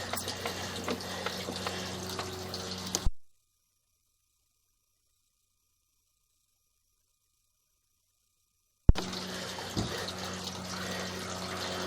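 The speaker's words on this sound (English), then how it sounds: "we're going to run a little bit of water just to help clear our camera lens" Water flowing steadily through a vitreous clay sewer pipe during a camera inspection, a continuous close rushing hum that cuts out to silence for several seconds midway before resuming.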